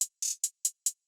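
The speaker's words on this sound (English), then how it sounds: "I'm adding a little bit of reverb to my hi-hats." Hi-hats with added reverb in a hard-hitting trap beat mix: six crisp, bright ticks in a quick uneven rhythm, each with a short airy tail, heard alone and fairly quiet.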